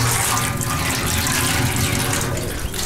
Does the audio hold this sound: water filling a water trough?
yes